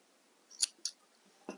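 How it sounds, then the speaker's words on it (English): Two crisp, close scissor snips cutting yarn while fastening off a crochet granny square, followed by a soft handling rustle, with no talking. "I'm just going to snip my yarn now"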